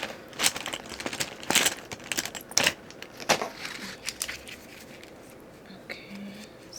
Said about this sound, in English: Let me get a pen out.